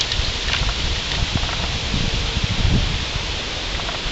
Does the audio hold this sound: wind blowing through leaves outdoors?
yes